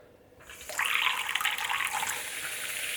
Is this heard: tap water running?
yes